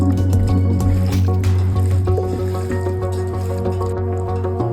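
Paneer marinade being mixed by hand gives wet squishing and liquid sounds under a steady loud background hum.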